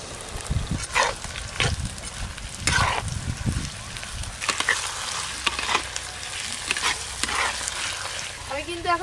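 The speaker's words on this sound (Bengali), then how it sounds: "পেঁয়াজ কুচি হালকা করে ভেজে নিয়েছি, এবার দেব, প্রথমে দেব আদা রসুন বাটা, টমেটো কুচি" Ginger garlic paste and chopped tomato fry with onion in a pot on a village clay stove, a close, loud, continuous sizzle with heavy scraping and stirring bursts that come and go.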